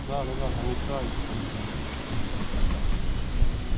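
Strong wind roars and gusts across the microphone in a steady, rumbling rush while fishing for perch, with a voice briefly audible near the start.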